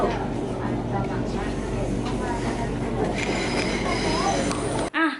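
A Bangkok BTS Skytrain rumbles steadily with metallic wheel squeal and rattling, people talking over the noise, before the sound cuts off abruptly near the end.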